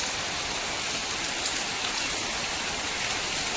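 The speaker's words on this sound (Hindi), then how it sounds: "आज हुई बहुत तेज बारिश।" Heavy torrential rain pours steadily as a dense, continuous hiss of water striking surfaces, loud and unbroken throughout with no voices.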